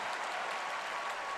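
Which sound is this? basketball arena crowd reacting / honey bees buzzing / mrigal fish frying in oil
basketball arena crowd reacting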